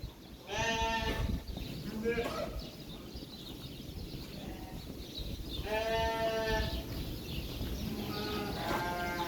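Sheep bleat repeatedly, a few loud nearby calls and fainter ones, over a background of farm noise and occasional low voices on a sheep farm in Israel.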